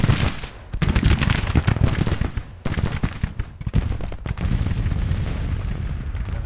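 Heavy gunfire in a Civil War-era Confederate battle video game, with rapid, loud, overlapping volleys and sharp cracks sounding nearly nonstop, close and intense.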